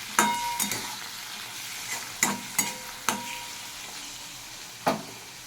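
Bottle gourd curry (lau ghonto) mashed and stirred in a pan, with sharp clanks of a utensil striking the pan at irregular intervals over a soft sizzle, close by, no talking.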